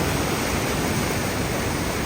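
Sutlej river water rushing under heavy pressure, a loud, dense, unbroken roar of turbulent flow that fills the whole span at close range, with no voices.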